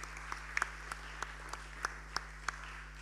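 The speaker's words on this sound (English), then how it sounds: "Give them a round of applause." Sparse, quiet clapping from a small audience at an evening leadership gathering, individual hand claps audible as distinct irregular pops over a steady electrical hum, with no voices.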